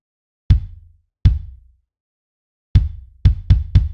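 A programmed kick drum pattern sounds as isolated deep thumps, two spaced hits followed after a pause by four quicker ones, each decaying fast in otherwise silent surroundings.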